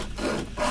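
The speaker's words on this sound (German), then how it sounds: "Säge den Stuhl an." Sawing through a wooden chair in the adventure game Book of Unwritten Tales, a short, close, raspy back-and-forth rub of blade on wood in two strokes.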